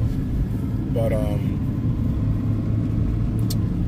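Diesel pickup truck with a 5-liter Cummins engine idling, a loud steady low rumble throughout, with a brief spoken word partway through.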